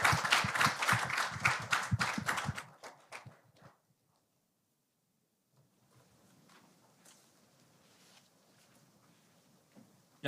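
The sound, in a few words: applause for Professor Lee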